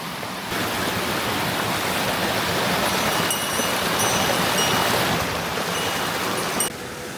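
Steady, dense roar of a waterfall deep in a mountain stream valley near Otaru, Hokkaido, close and continuous with a slight shift in tone near the end, no voices.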